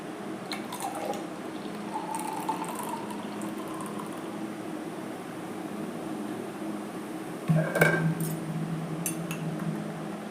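Soda poured into a glass for lime soda: soft liquid dripping and trickling with light glass clinks, then a louder, brief gush of fizzy pouring near the end.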